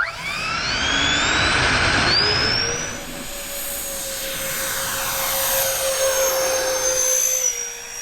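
A modified RC CargoJet airliner with added engine fans, slats and a thruster takes off, its electric fans whining loudly with a rising pitch that settles into a steady high drone, close and alone.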